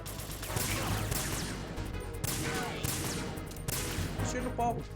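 Rapid bursts of gunfire in Metal Gear Solid 2, with dense overlapping shots and crashes filling the clip, loud and close, and a voice talking now and then underneath.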